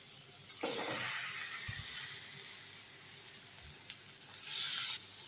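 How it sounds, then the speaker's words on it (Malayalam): Washed chicken tipped into a hot pan of masala for a country-style chicken curry, giving a steady close sizzle with a few brief stirring bursts and clatters, no talking. "ഇനി നമുക്ക് ഈ കഴുകി വെച്ചിട്ടുള്ള ചിക്കനും കൂടി ഇതിലോട്ട് ഇട്ട് കൊടുക്കാം."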